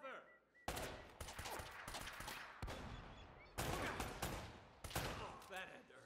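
Shotgun fire in the video game Uncharted: several loud, sharp blasts land in separate bursts through a busy game battle, with someone talking over the action.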